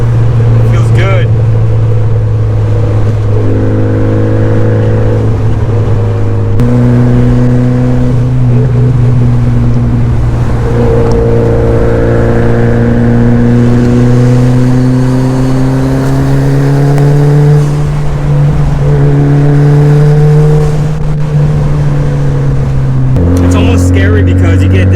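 A car fitted with BC Racing coilovers drives and accelerates, its engine drone loud and close, climbing steadily in pitch through the gears with brief drops at each shift.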